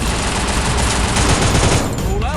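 Loud, dense automatic gunfire from the Kingfisher gun in a shooting video game rattles continuously in a rapid stream, then cuts off near the end.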